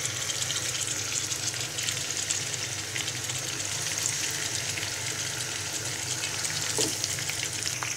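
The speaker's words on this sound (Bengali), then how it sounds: "তেলটা যখন গরম হয়ে যাবে তখন একটা একটা করে ইলিশ মাছ দিয়ে দিব।" Hilsa fish pieces frying in hot soybean oil in a pan give a steady, close, moderately loud sizzle that holds evenly throughout with no voices.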